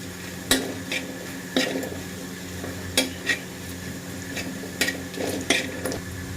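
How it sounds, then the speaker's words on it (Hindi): Steady low sizzle of ginger and garlic frying in a pan with several sharp clinks of a spoon stirring against metal, spaced irregularly, close up with no voices. "बातें करते करते हमारे अदरक और लहसुन भी फ्राई हो चुके हैं"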